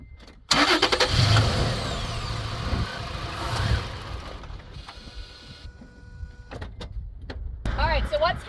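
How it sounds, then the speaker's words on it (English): A Toyota FJ with its mass airflow sensor plugged back in cranks and catches, the engine running loud and close with mechanical clatter, then dying away while a voice talks over it. "as soon as I plug this back in and I turn the car on, it dies"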